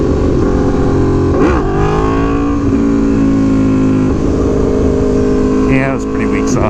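An Aprilia Tuono V4 Factory motorcycle revs hard for a clutch-up wheelie in second gear, its engine droning loud and close with pitch swells as the throttle rises, and wind noise beneath.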